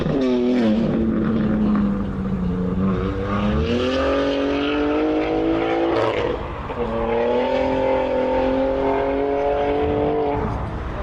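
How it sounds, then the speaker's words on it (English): A Cobra V8 with a loud exhaust revs hard and roars past, its engine note rising and falling twice over a steady, close, continuous drone with no talk over it. "That's a loud exhaust."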